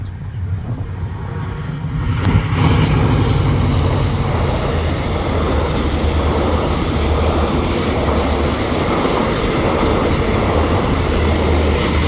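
A Thai train on double track rumbles past up close at Khlong Bang Tan, a loud, steady rolling roar with faint clatter that swells in after a quieter opening and continues throughout.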